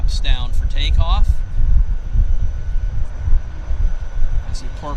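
A floatplane takes off from Vancouver Harbour, its engine a steady loud low roar throughout, with people talking over it at the start and end.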